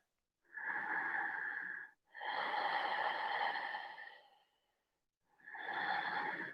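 Three long, slow, deep exhales, each lasting about one to two seconds with a short pause between, heard close and breathy during a gentle stretching session, with no talking over them.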